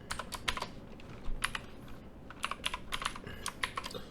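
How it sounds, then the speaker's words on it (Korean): A computer keyboard clatters with quick bursts of key presses as a word is typed, the clicks coming in uneven clusters with short pauses between them, close and fairly quiet. "그러면 여기에서 우리가 뭐, 크런치라고 입력을 해볼게요."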